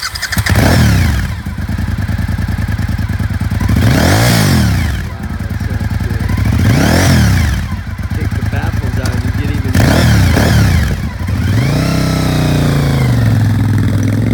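A used 2006 Suzuki SV1000S V-twin supersport motorcycle idles with a loud, close, lumpy rumble and is revved several times in rising and falling surges, ending with one longer rev that settles back to idle.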